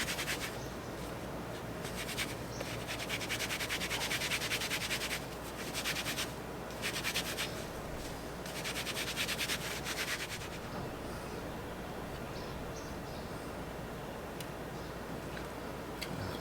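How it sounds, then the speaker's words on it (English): Steel wool scrubbing rust off a metal part, heard as a long run of close, harsh abrasive rubbing strokes that come in bursts with brief pauses between them. "So, grab the steel wool. Just want to try to get some of the rust"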